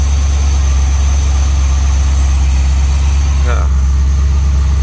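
A street van's engine idling with a 4-barrel carburetor, a loud, steady low rumble held evenly throughout, close by, with a brief mechanical rattle near the end.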